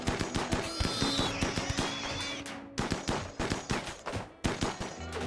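Rapid gunfire from turrets and colonists in the video game RimWorld, dense overlapping bursts of shots, loud and continuous, breaking briefly before resuming.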